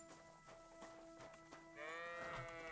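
Quiet sheep and goat bleating in the video game Kingdom Come: Deliverance II, with a tonal, slightly synthetic quality, followed by a longer, louder wavering bleat near the end.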